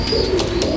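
A pair of pigeons, a male and a female, coos in a brief low warble, heard up close with a faint higher tone held in the background.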